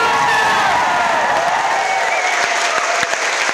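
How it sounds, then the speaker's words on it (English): A crowd applauds loudly with scattered cheers and whoops, a dense, steady wash of clapping that carries on without a break. "give a round of applause for all of our contestants!"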